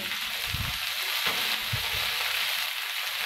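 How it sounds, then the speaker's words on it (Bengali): Capsicum and carrot fry over a high flame with a steady, loud sizzle and occasional stirring thumps in the pan, with no voices. "2 মিনিট ফুল আঁচে ভাজবো।"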